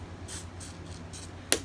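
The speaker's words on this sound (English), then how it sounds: "I'm spraying my chicken" Oil is sprayed onto chicken breast for an air fryer in four short, soft spray bursts at an even rhythm, followed by a sharp click, close and fairly quiet.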